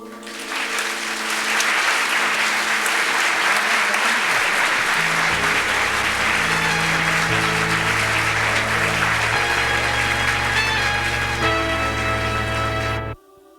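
A live audience applauds at the end of a radio mystery play, a dense, loud burst of clapping with music swelling underneath that cuts off abruptly at the close.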